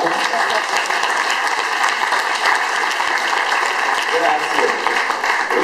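Audience applause in a hall in Ancona for astronaut Paolo Nespoli, a steady dense wash of clapping throughout at moderate loudness, with voices murmuring underneath.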